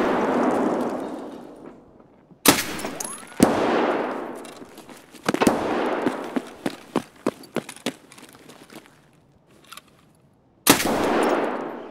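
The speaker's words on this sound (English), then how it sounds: "We heard shots from this direction." Gunfire in the video game Escape from Tarkov: loud, sharp shots ring out one at a time and in quick clusters, some close and cracking, over a steady rushing background.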